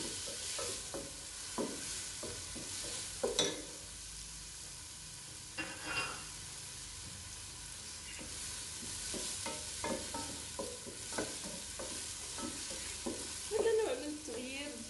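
Chicken pieces and onion fry and get stirred in a pan, with a steady sizzle and repeated scraping, clattering stirs throughout, close and alone.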